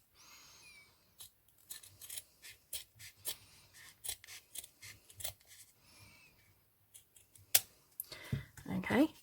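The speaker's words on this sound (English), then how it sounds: "So what we do now is we cut this bit off." Scissors snip through 3-inch ribbon while making a wavy hair bow, a series of short, crisp cuts and rasping slides close by, with a person talking between cuts.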